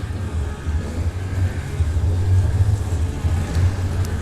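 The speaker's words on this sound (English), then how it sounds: "So this is the Pride Maxima 3-wheel. Very easy to drive, has a really good turning radius." A Pride Maxima three-wheel mobility scooter drives along with a steady, close, low electric motor hum that rises slightly in the middle, with no talking.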